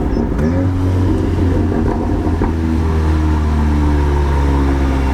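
Volkswagen Golf R engine running close and loud, a steady low rumble with a slight rev swell and a brief sharp burst near the middle, no talking.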